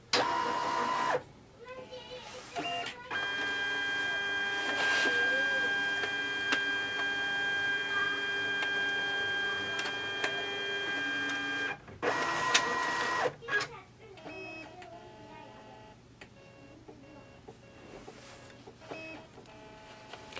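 A Brother MFC-J497DW printer scans a page with a continuous whirring mechanical drone and tonal motor whine, broken by short pauses and clunks as the scan head moves and returns, then quieter clicks afterward.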